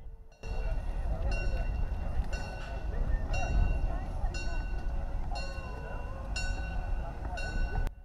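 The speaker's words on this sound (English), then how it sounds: "the steam train arrived at the event to pick up some of the reenactors" A steam train arrives at a station during a WW2 reenactment event at Eeklo, rumbling steadily with repeated rhythmic hissing chuffs, while people talk nearby and the scene carries outdoor bustle.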